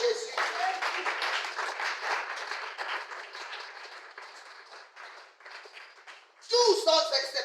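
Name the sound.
congregation applauding and cheering for Jesus in church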